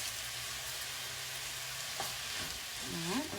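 Beef and cabbage being tossed in a hot skillet with bouillon and pepper, a steady close sizzle and frying hiss with a few stirring scrapes, with no one talking.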